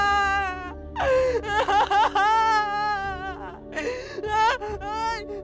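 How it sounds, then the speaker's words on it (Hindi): A woman wails and sobs in drawn-out, quavering moans, several rising and falling cries over a low steady drone, an eerie horror-story effect, loud and close. "अचानक उस औरत की रोने की आवाज़ बढ़ गई।"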